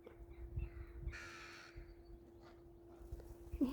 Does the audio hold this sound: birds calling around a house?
yes